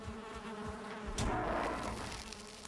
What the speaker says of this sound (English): Please stop punching my bees.